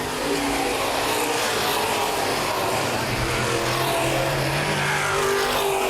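Open wheel modified race cars roar around the Baer Field Speedway oval in a dense, continuous engine drone, loud and unbroken, with the pack's engines blending into one wash of noise.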